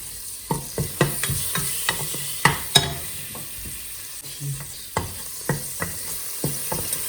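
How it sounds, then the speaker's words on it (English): Curry leaves and masala spluttering in hot oil in a pan on medium heat: sharp crackling pops arrive in an irregular series over a soft background sizzle, close and clear, with no voices. "And I will be also adding some curry leaves in this oil."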